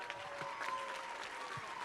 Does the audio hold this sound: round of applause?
yes